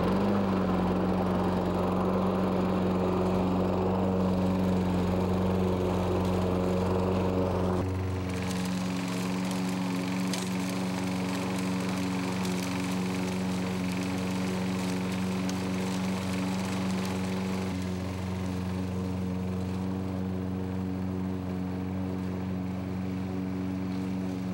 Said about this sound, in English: this is an electric start mower